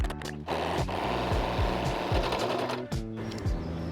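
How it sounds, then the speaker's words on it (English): A sewing machine runs steadily while hemming a pair of jeans, its close, loud motor whirring alone with a quick repeated stitching rhythm and brief pauses. "I'm literally just gonna sew it and cut it"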